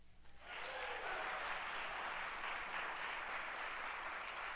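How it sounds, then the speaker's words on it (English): An audience at a college convocation applauds the sound crew: after a brief lead-in, dense, steady clapping from a large crowd swells quickly and holds evenly, heard from a moderate distance in a hall. "Can we get a round of applause for the sound people?"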